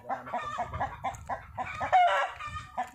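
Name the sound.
hen clucking after laying an egg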